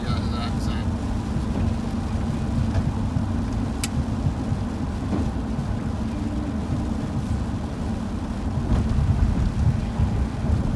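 Steady rain pours and thunder rumbles outside an airport, a dense wash of noise with low rolling booms throughout and traffic mixed in.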